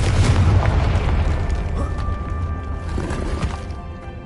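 A Confringo spell blast in Hogwarts Legacy, a deep rumbling explosion that opens loud and decays slowly over a few seconds, with no voices over it.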